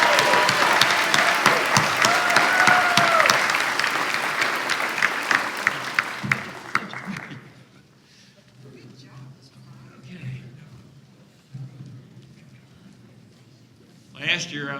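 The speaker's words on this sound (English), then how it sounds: "My script says that I'm supposed to now seek another round of applause" Dense audience applause fills a credit union annual meeting hall for about seven seconds, then fades into quiet room murmur with a brief burst of sound near the end.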